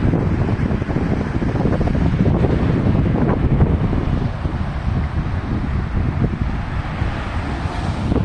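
Ocean waves on open sea at Jumeirah Beach around sunset, with strong wind buffeting the microphone into a steady, loud roar of rushing wind and surf throughout.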